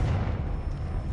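In the video game Hogwarts Legacy, the Confringo fire spell blasts out as a short, loud, rumbling explosive burst with a heavy low-end boom lasting about a second.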